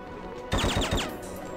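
A short, sharp burst of about four rapid gunshots in the stealth game Hitman 2: Silent Assassin, loud and close, after a moment of quiet and fading into a brief echo.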